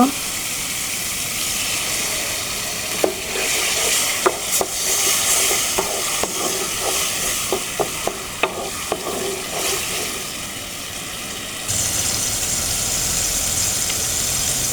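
Spice masala for a whole cauliflower korma being stirred in a pan, a run of sharp spoon clicks and scrapes over a constant sizzle, followed by a louder steady hiss near the end.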